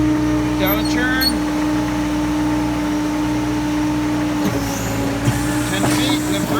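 Zamboni ice resurfacing machine engine running steadily on the ice rink with a constant droning hum, joined by a few brief squeaks and clunks, with someone talking over it.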